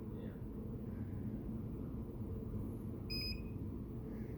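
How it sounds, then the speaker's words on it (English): A single short electronic beep from a rocket payload rings out clearly once over a steady low rumble of wind and outdoor noise. "we should hear a beep."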